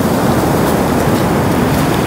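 Strong ocean waves roll at the seaside, a loud continuous rushing wash with wind noise and no break.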